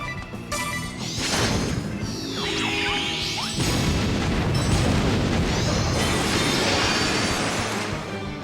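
Bomb explosions from the video game Bravely Default HD Remaster burst loudly in succession, heavy booming crashes with whooshing sweeps and a sustained rumbling tail, with no voices over them.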